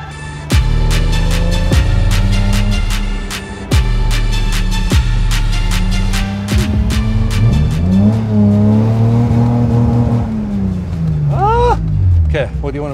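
A BMW E30 325i convertible turned pick-up, running an E36 engine, pulls away with sharp revs and gear changes, its engine note rising and falling up close, with a few clicks and thumps and some talk.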